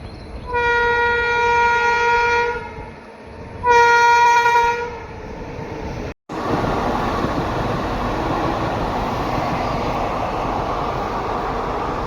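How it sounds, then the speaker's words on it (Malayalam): A train passes beneath the Koduvalli railway flyover at Thalassery, sounding two loud, sustained horn blasts before giving way to a steady, close rumble of wheels and carriages on the rails. "ഞാനിവിടെ വന്നപ്പോൾ ഒരു ട്രെയിന് പോയി ഗൈസ്."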